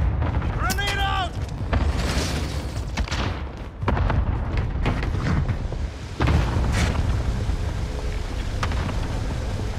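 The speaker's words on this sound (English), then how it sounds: "Grenade out!" A grenade explodes in a multiplayer shooter video game, a heavy boom under continuous game noise and rumbling effects, with players talking over the action.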